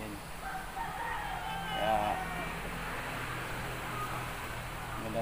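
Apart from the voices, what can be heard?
game fowl rooster crowing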